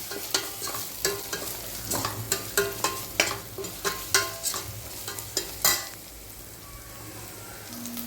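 Ginger garlic paste sautés in a hot pan for a goat-leg-style soup, with oil sizzling steadily under repeated sharp scrapes and clinks of a stirring spoon before the stirring stops and a softer sizzle carries on.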